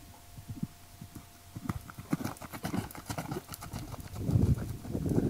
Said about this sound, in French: Bon, ça c'est Brio, c'est un cheval quand même qui est très constant dans son galop.